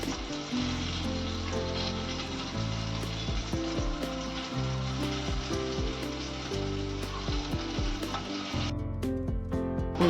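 Stuffed brinjals fry in a pan with a steady, close sizzle and faint crackle, the spitting oil holding loud and even throughout with no voices.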